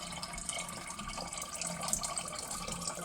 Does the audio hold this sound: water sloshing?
yes